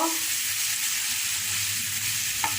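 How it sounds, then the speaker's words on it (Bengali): Chana dal with turmeric and chilli powder sizzles steadily in hot oil while being stirred, a continuous close frying hiss with a faint utensil scrape near the end and no talking. "এবার নেড়ে টেড়ে নেব।"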